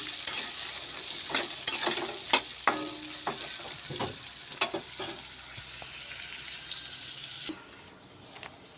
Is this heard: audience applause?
no